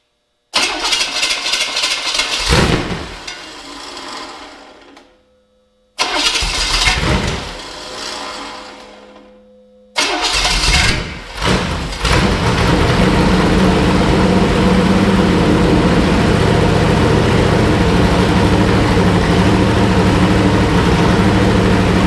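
A small block Chevy V8 that sat stored for years cranks loudly in two long attempts, then catches on the third and roars into a steady, loud idle.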